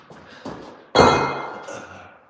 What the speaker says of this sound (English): So let me throw this door up here, and I'll probably bounce after that.